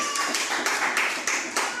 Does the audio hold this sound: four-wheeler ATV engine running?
no